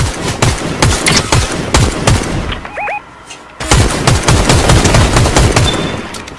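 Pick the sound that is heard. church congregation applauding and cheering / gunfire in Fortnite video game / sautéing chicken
gunfire in Fortnite video game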